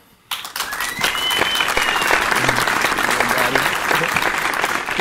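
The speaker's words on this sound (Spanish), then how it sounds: "Reciban con un fuerte aplauso a Mesía." Loud audience applause breaks out after a brief quiet moment and holds steady as a guest, trap artist Messiah, is welcomed onto a talk show stage, with faint cheers mixed in.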